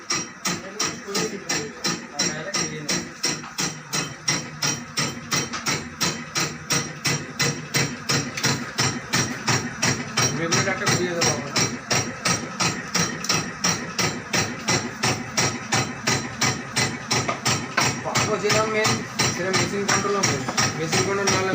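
A batasa sugar candy machine running a 14 kg batch, with rapid, regular mechanical thumps repeating steadily for the whole stretch, loud and close, with faint background voices.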